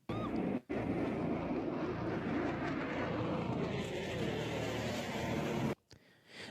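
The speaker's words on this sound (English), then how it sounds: "This is a jet fighter plane, an F-22, I believe it was." An F-22 fighter jet flies by as a continuous, loud broadband roar that holds steady for several seconds before cutting off abruptly.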